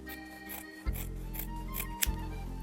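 Scissors snip through a fabric seam allowance beside a sewing machine, two distinct close cuts over a steady low hum of the machine; no talking.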